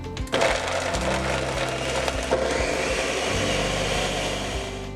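A countertop blender on low speed blends one cup of frozen blueberries, starting with a sharp clatter of hard fruit against the blades, then settling into a steady, grinding whir for several seconds.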